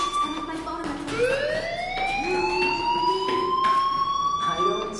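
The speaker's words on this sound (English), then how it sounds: "Hey, do you hear that fire alarm? That means you should be outside." A school fire alarm in the video game Life is Strange wails with a rising, sustained siren tone that sweeps upward and holds, loud and continuous through the whole stretch.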